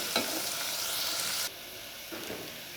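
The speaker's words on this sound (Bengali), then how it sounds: "সাথে এলাচ, দারচিনি এগুলো দিয়ে দিব। এখন এগুলোকে একটু ভালো করে ভেজে নেব।" Cardamom and cinnamon frying with onions in a pan, a soft steady sizzle with a stirring scrape that drops slightly in level partway through, faint and close with no voices.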